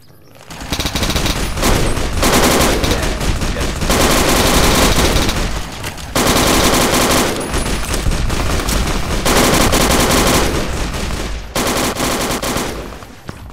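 Sustained automatic gunfire in a Fallout New Vegas firefight, loud and dense, with rapid bursts running nearly nonstop and only brief pauses between volleys.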